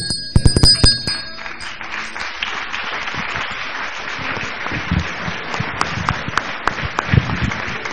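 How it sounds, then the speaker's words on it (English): A bell rings a few bright, quick strikes at a memorial service, followed by a steady wash of clapping-like noise that fills the rest of the moment. "when you hear a bell, an angel gets their wings,"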